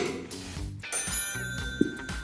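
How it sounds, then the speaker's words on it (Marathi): At a school quiz competition, a contestant rings the answer bell, producing a bright, sustained metallic ringing tone over a low murmur of background voices, with a sharp tap near the end. "त्याने बेल वाजलेली बरोबर आहे"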